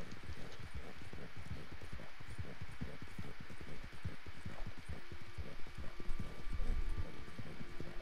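Horse hooves gallop in a video game posse race, a fast continuous drumming of hoofbeats running through the whole stretch with a low hum beneath.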